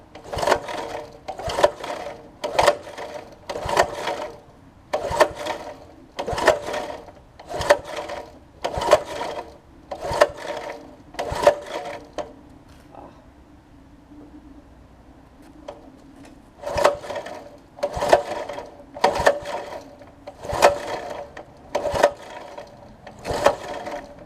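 A 1980s 5hp Briggs tiller engine is cranked repeatedly, a rhythmic series of sharp mechanical strokes in two bursts with a short pause between them, close and fairly loud, without firing.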